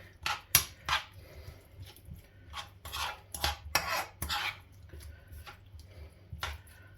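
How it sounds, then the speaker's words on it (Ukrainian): A spoon or ladle stirs borscht ingredients with broth in a pot, producing irregular clinks, scrapes and wet swishes in short bursts, fairly quiet and close. "Тепер це все діло перемішуємо."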